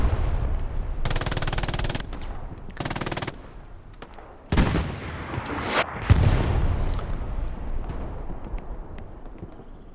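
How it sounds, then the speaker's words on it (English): Artillery fire in the Hell Let Loose battle on Utah Beach: heavy booming impacts and rumbling blasts mixed with bursts of automatic gunfire, loud and close at times, separated by quieter rumbling gaps. "This artillery from Gavrich right now from EG."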